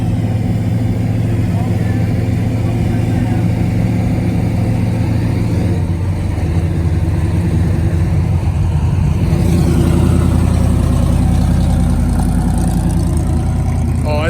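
Plymouth Mopar car with a red eye hood and a hemmed-up muffler exhaust under the side, idling at a car show; a steady, loud low rumble holds throughout with a slight shift midway, while crowd noise murmurs in the background.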